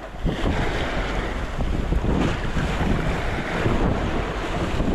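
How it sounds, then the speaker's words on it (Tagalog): Strong wind buffets the microphone with a heavy, continuous roar, mixed with rushing water and boat noise outdoors at sea off Dilasag, Aurora. "Lakas ng silig bay."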